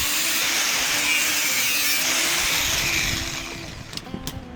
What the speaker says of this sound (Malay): Ini pula ada mesin grinder untuk aku nak potong. Aku nak buang semua tutup yang ada dekat bawah tin cat tu.